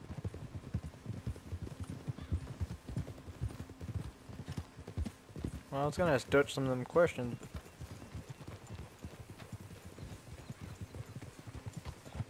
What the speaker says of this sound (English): I have to walk the horse through some water.